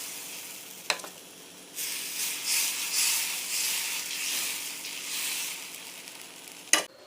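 Dosa batter sizzles on a hot pan, a bright steady hiss that swells after a couple of seconds and holds, with a couple of sharp clinks of utensils near the start and end, no talking.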